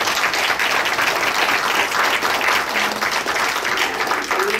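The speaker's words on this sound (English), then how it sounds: "So let's give him a round of applause." An audience at a Seguin ISD school board meeting gives a round of applause, a loud, thick burst of many people clapping that stays steady for nearly five seconds with a faint voice near the end.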